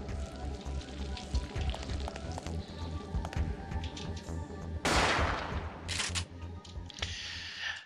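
Shotgun blasts and rapid gunfire in the survival horror game Parasite Eve II, a dense run of sharp reports with a loud burst near the end and brief noisy bursts after.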